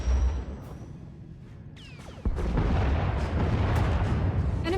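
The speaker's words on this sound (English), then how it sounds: "Enemy is firing. Turbo lasers, missiles, and what looks like transport pods." Enemy Thranta-class warship opening fire in a starship battle in SWTOR: a sudden heavy blast after a quiet hum, then sustained loud rumbling barrage of turbolaser and missile fire filling the space.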